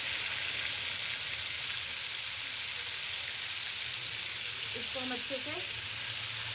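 Marinated chicken added to two tablespoons of hot oil in a pan, a loud steady sizzle and crackle throughout, with a brief stir near the end and a voice speaking over it.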